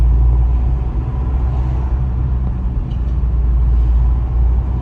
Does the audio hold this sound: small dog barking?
no